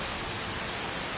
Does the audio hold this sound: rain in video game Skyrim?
yes